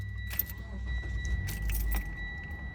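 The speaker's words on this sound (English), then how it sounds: "So when I turn on my car" Keys jangle close by as a Mitsubishi Lancer with an automatic transmission is started; a low motor rumble runs steadily underneath for about three seconds, with a few brighter metallic clinks near the start and middle.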